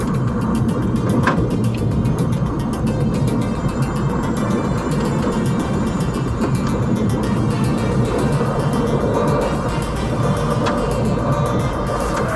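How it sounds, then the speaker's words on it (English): Race car driven hard on a circuit by a 14-year-old, with a dense, loud engine roar that holds steady throughout and a broadband wash of tire noise, with no talk. "Plenty of tire squeal."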